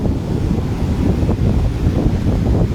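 Sea waves and gusting wind at a beach resort, a steady broadband roar of surf with wind buffeting the microphone throughout, no voices.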